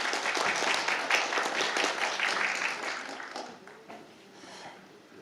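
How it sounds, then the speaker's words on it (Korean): Steady audience applause fills a conference hall to welcome a speaker at a policy forum, loud and continuous at first and then thinning out toward the end. "모두 박수로 맞아주시기 바랍니다."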